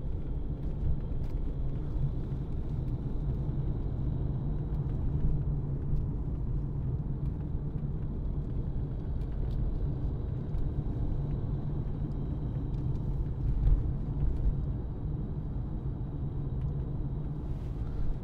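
Steady low engine rumble and road noise from inside a 2014 Mercedes-Benz C220 CDI BlueTEC diesel with automatic gearbox driving along, continuous and even throughout, with no voices.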